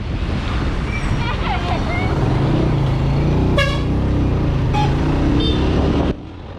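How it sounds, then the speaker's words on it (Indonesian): Trucks and other traffic rumble steadily along a road near BSD toward Podomoro Tenjo, Indonesia, with wind buffeting the microphone and a single short horn honk sounding partway through before the noise drops off. "Meskipun sekarang banyak truk"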